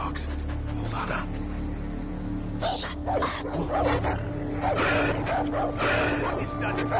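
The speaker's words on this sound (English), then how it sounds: "What is that dog going off about?" In the Far Cry 3 video game, a dog barks and yips in short bursts over a constant low ambient drone, with voice-like sounds mixed in.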